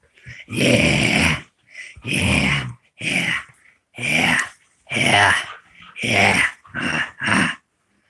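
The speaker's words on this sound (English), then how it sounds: "that's my dog. That's my puppy." A puppy growls in play: a run of about eight gruff bursts with short gaps, close and loud, with no talk over it.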